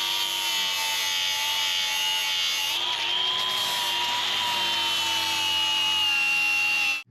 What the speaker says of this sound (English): Let's weld them up.